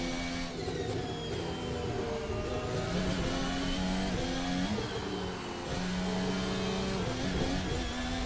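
Formula 1 race car engine in a 2025 Eifel Grand Prix racing video game, a loud, continuous high-pitched whine with rising and falling gear-shift harmonics, steady throughout with no speech.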